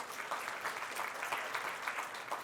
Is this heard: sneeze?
no